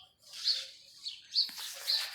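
A pet pigeon, a teddy breed bird, gives a few soft chirping calls, close and fairly quiet, three short bursts spaced across a couple of seconds with no talking.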